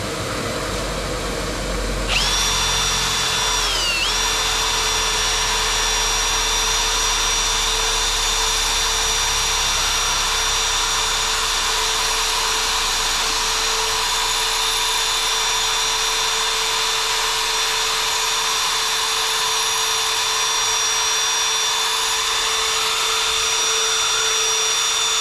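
Power tool sanding with 400 grit sandpaper on a 1973 Dodge Dart project: a motor spins up and holds a steady high whine with a constant hum, close and loud throughout.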